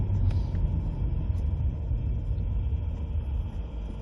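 A 2003 Alfa Romeo Spider 2.0 JTS drives through urban streets in Berkshire, heard from inside as a steady low engine rumble and road roar that carries on evenly throughout.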